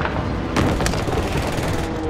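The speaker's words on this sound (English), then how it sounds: "Precision airstrike incoming." Heavy booming blasts from a precision airstrike in a military video game hit in quick succession, loud and close, as a dense rumbling barrage.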